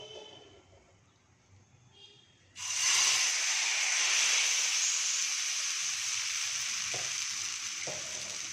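Cucumber dosa batter hitting a hot pan, a sudden loud close hiss that swells and holds steady, easing slightly, with a few soft scrapes and taps near the end.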